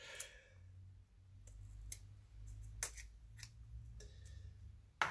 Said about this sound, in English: Oh, I have a pair of scissors here.